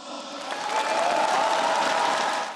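Audience applause fills a party convention hall, a dense steady wash of clapping from a large crowd that swells slightly and holds for a few seconds.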